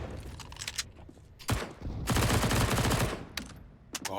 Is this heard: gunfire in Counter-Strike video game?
yes